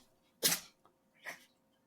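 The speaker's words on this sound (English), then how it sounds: "My cat just had a fucking big sneezing fit there." A cat gives two small sneezes a moment apart, the first sharper and louder, the second softer, close by in a quiet room.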